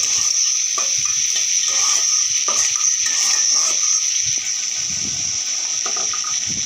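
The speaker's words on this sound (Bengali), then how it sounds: "তো এখন এটাকে সুন্দর করে নেড়ে চেড়ে মিশিয়ে নিব, যেন প্রত্যেকটা সবজি সুন্দর করে মিক্স হয়ে যায়।" Vegetables being stirred and mixed in a hot pan for a home-style vegetarian dish, a steady hiss of sizzling with repeated soft scraping strokes of the spatula, close and fairly loud, no talking.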